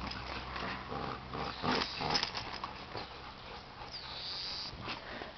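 A dog whimpers and whines softly over a steady background hum, with a few short, higher-pitched cries near the middle and end.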